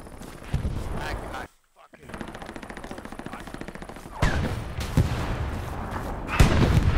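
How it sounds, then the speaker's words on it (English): A tank firing in an online war video game, heard as loud booms and rattling bursts of gunfire with a brief silent gap, with players talking over it. "Yes, yes, our tank is fucking shooting, yes."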